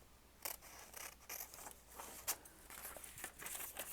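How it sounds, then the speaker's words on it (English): Scissors snipping through plant stems, a run of crisp, close cuts and rustles in an irregular rhythm, heard alone without speech. "Cutting off the plant."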